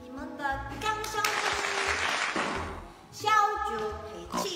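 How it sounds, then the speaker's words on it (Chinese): Audience applause rising as a crowd claps together, a steady textured patter lasting a couple of seconds between stretches of talk, with voices heard around it. "我现在需要 你们的掌声，"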